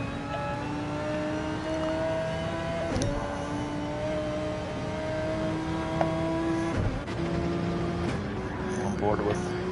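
Audi race car engine in an eDTM sim racing game, a steady droning engine note with shifting pitch as it accelerates and changes gear, running continuously under a commentator's talk throughout.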